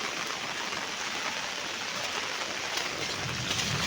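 Torrential rain hammers down on a village already filling with water, a constant thick hiss of drops on surfaces with slight swells in intensity near the end.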